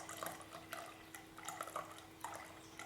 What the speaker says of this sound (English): all I'm going to do is pour this out slowly